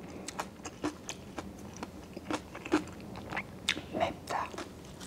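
Crisp crunching bites and chewing of spicy, crunchy kimchi eaten alongside cup ramen, heard up close as a run of sharp crackly bites with soft murmured speech mixed in.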